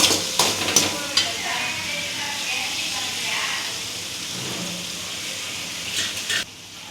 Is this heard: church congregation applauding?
no